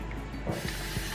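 A close, continuous hiss of aerosol spray over a 5x5 closure section of a curly hair wig, steady throughout with a few faint clicks underneath.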